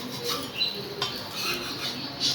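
A spatula scrapes and taps a hot pan while an egg dosa is flipped, making faint scraping with a single light click partway through, soft and close.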